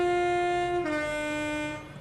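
Train horn sounding as a train pulls away on the Birmingham Cross City line: a sustained two-tone blast that drops slightly in pitch partway through, followed by rumbling wheels before fading at the end.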